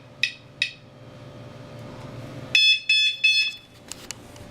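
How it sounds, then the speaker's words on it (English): A garage alarm keypad gives two short beeps, then a burst of rapid loud beeping in three clustered bursts, close and alone. "garage alarm is set"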